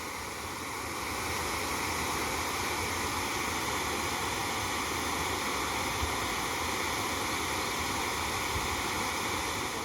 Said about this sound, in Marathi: मस्त भारी नदी आहे ना इकडं नुसता खळखळ खळखळ खळखळ आवाज येतोय